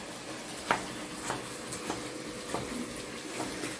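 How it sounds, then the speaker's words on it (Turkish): Chicken pieces frying in a pan while being cooked for a chicken and vegetable pilaf, a soft steady sizzle with a few light clinks and stirring knocks, no talk. "Bakın bu arada tavuklarımız da harika kızarıyor."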